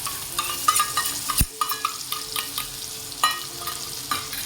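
Masala paste fries in a pan while a spoon stirs it with uneven scraping strokes and clinks against the metal over a low sizzle, close and fairly quiet, with no talking.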